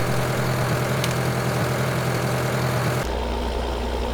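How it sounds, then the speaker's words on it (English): A tractor engine idles in the Farming Simulator 2013 video game with a loud, steady low drone that changes abruptly in tone near the end, as if switching between machines, with no speech. "That tractor's a little noisy. That tractor's way noisy."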